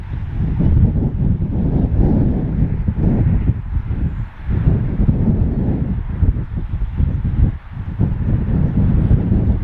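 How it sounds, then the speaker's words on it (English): Wind from the west buffets an outdoor fishing spot, a loud, continuous roar that rises and falls in gusts, with brief dips near the middle and toward the end. "that wind's not too cold as it's coming from the west"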